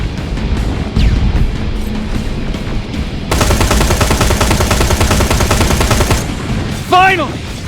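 Rapid automatic gunfire from the Terminator Resistance video game, dense and loud, with a sustained burst of fast repeated shots in the middle and a sharp electronic chirping sweep near the end.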